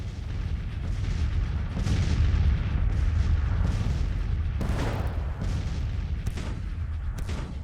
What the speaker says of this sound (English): Right, naval bombardments.